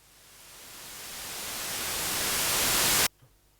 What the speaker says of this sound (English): that's your very classic white noise sweep